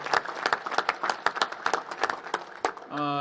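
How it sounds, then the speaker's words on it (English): An audience at a National Space Council meeting in the Smithsonian gives a round of applause: distinct, fairly close claps in an uneven patter, cut off by a voice beginning to speak at the end. "let's give the Smithsonian another round of applause"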